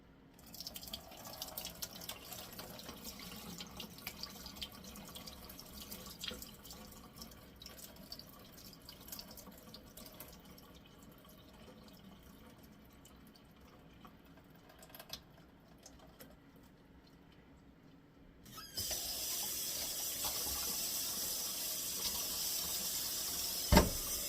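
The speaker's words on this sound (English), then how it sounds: "So I'll rinse them off a little bit." Okra rinsed under a running kitchen tap: quiet handling and faint water movement at first, then a steady loud rush of flowing water for the final seconds, close and without talking.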